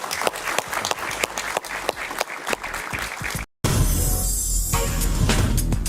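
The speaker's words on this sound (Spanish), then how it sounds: "Un aplauso para él, por favor." Dense applause from a TV talk show studio audience, many hands clapping at close range. It cuts out briefly, then returns as a louder, rougher roar.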